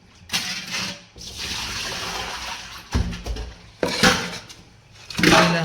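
Fish are washed in water for a village-style fish fry, with repeated splashing and sloshing bursts of handled water in a basin, close and fairly loud, and no talk.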